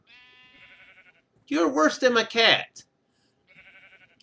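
Minecraft sheep bleat near and clearly at the start and again at the end, with someone talking loudly over the middle of the clip.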